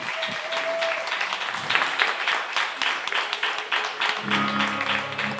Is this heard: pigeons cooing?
no